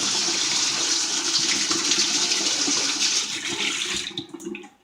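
Water runs steadily from a tap while shaving gear from a straight razor shave is rinsed out, a continuous loud splashing rush that fades away near the end.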